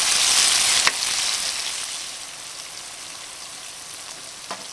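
Onion and tomatoes sizzle in a pan as the base for milkfish apritada. A steady, fairly loud frying hiss is broken by a couple of sharp utensil clicks and slowly fades.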